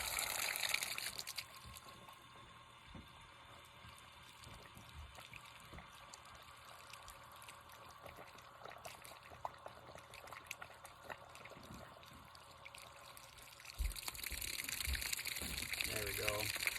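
Water flows steadily through an RV water softener during a backflush, a soft continuous hiss and trickle that swells louder near the start and again toward the end.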